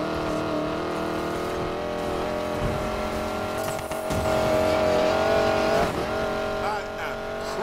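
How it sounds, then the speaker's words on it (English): A 1965 Mustang in Need For Speed Payback, its engine revving hard and holding a high, sustained roar with shifting pitch and tire squeal, loud and close. "Again, the car does pretty good despite my driving."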